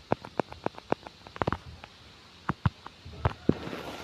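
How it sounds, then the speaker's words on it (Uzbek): Scattered Minecraft fireworks pop and crackle, some in quick clusters and others spaced apart, fairly distant with a quiet background between bursts. "Salyutlar ochishni boshlayapti."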